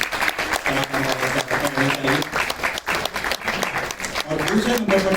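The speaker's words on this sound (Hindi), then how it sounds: "तालियां बजती रहनी चाहिए," Audience applause fills a hall at an award ceremony for a comedy theatre festival, a dense continuous clapping with voices speaking over it.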